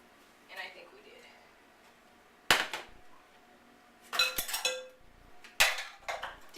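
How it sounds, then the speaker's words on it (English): Dishes clatter in a home kitchen while black bean brownies are being baked, a few sharp clinks and knocks in separate bursts against a quiet background. "Dishes."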